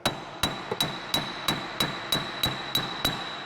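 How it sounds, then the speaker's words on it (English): A hammer striking a Toyota axle during wheel bearing work: nine sharp metallic ringing blows at a steady, even rhythm, close and clear, each with a brief ringing tail. "Just take a hammer"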